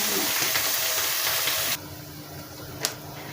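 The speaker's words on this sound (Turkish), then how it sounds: "istek üzerine patlıcan da kızarttım" Steady loud sizzling of eggplant frying in hot oil, dropping to a quieter hiss partway through, with a faint clink near the end.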